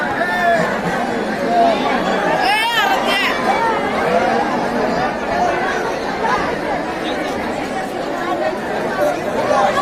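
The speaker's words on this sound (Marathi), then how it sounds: "गर्दी आहे खूप जास्त गर्दी." A large crowd of devotees fills the Khandoba temple at Jejuri, a dense, steady chatter of many voices that stays close and loud for the whole stretch with no single voice standing out.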